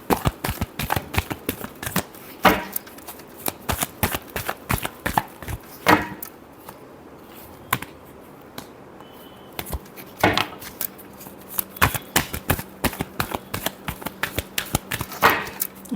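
A deck of tarot cards is shuffled close by in repeated crisp bursts of riffling and slapping, with short pauses between rounds and a faint hum in the background.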